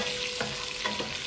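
Butter melting in hot oil in a frying pan with onion going in, giving a steady broadband sizzle with a couple of soft stirring bumps, close and alone with no talk.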